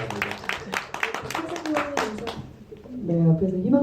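Audience at a Korean film screening Q&A for the movie First Child claps in a brief burst of sharp, close hand claps, followed by a speaker's voice.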